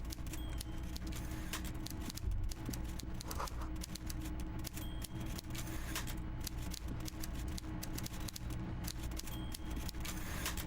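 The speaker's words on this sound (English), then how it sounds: "Everard Clare clatters away on his typewriter, willfully indifferent to your presence" A typewriter clatters in the video game Disco Elysium, with rapid, uneven keystrokes and carriage noises ticking steadily throughout over a constant low room hum. No one speaks.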